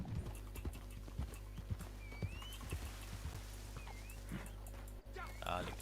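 Horse hooves clip-clopping at a steady gallop in the Red Dead Redemption 2 online game, a continuous rhythmic drumming under ambient game sounds, with a brief whinny-like tone and faint chatter in the background.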